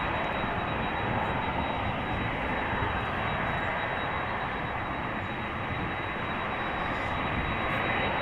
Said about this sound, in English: Atlas Air, Boeing 747-400, outbound to Miami